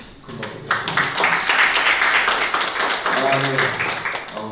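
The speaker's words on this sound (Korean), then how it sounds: "우리 그 김충우 교수님하고 장하영 박사님께 다시 한번 큰 박수 부탁드립니다" An audience at a Korean debate forum on port authority autonomy gives a round of applause, a dense, steady patter of many hands clapping close by for several seconds.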